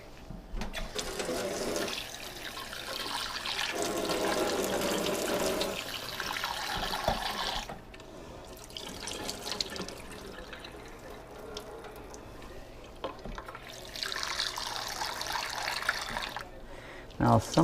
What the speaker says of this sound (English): I'm gonna rinse it just a little bit here.